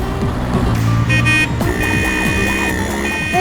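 A car drives up to a school in a Hindi TV drama scene. The engine hum is fairly loud, with brief tonal beeps or a horn and background music, and there is no talk.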